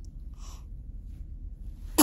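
A single sharp sneeze bursts out near the very end, loud and close, following quiet low room rumble and a faint soft sound earlier, on a long train journey with a newborn.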